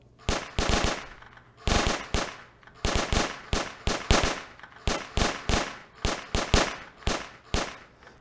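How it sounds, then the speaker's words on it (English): Roblox NPC soldiers fire their guns at zombies in a video game, repeated bursts of rapid automatic gunfire in steady clusters, loud and close with brief gaps between volleys. "then these soldiers are going to shoot at them"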